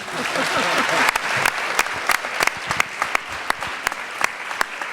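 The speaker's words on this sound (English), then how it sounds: "So give him a round of applause, please." An audience at an Islamic community convention applauds the city's mayor: a loud, full round of clapping that swells early, then thins into scattered claps as a few voices murmur beneath.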